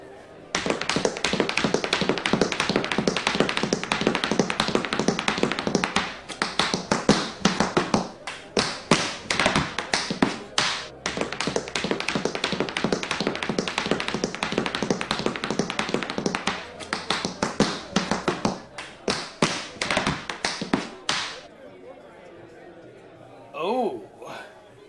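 Feet tap and stomp in fast, busy rhythms on a pool hall floor, a dense, loud run of sharp steps that keeps going for about twenty seconds before dropping away to quiet, with a brief voice near the end.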